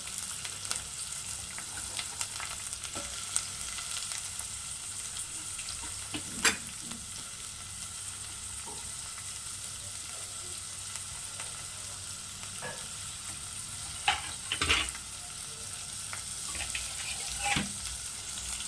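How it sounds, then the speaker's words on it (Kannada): Steady, fairly quiet sizzling of onions and curry leaves frying in oil, broken by a few scraping stirs and clinks of a utensil against the pan. "ಈರುಳ್ಳಿ ಲೈಟ್ ಬ್ರೌನ್ ಆಗೋವರೆಗೂ ನೀಟಾಗಿ ಫ್ರೈ ಮಾಡ್ಕೋಬೇಕು"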